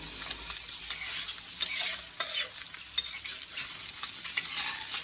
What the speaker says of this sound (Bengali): আমি আমার এই সামান্য একটু পেঁয়াজ আর ডিম ভেজে